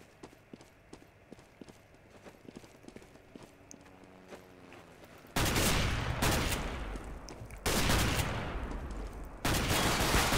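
Loud shotgun blasts in a Counter-Strike: Global Offensive match, three heavy broadband bursts in the second half, each ringing out briefly, after a stretch of quieter clicking and footstep-like game sounds.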